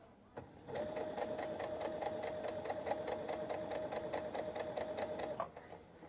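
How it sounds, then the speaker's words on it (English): A sewing machine stitches piping onto a pillow, a steady fast mechanical whir with a rhythmic needle clatter that runs for about five seconds and then stops. "Hold it tight to the fold, and then sew."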